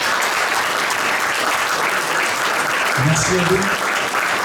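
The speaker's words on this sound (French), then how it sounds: "je vous demande d'applaudir encore une fois, et très chaleureusement les Wood Roses pour ce talent et ce grand cœur." Warm audience applause for the Wood Roses performers at a charity cheque presentation, a dense steady roar of clapping throughout, with a voice speaking briefly over it toward the end.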